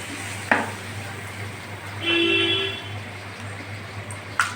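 Water lily flower fritters fry in hot oil with a continuous faint sizzle beneath a steady low hum, broken by a few sharp clinks and a brief tonal scrape, with no talking.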